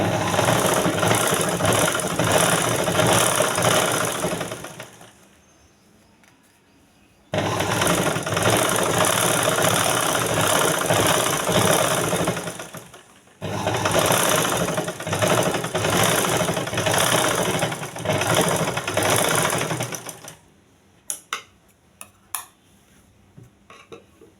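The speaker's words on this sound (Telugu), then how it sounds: "పైన డబల్ కుట్టు వేసుకోండి" A sewing machine stitches a double top seam at the handle joint of a bag, running in three long, steady bursts separated by short pauses, with a few light clicks at the end.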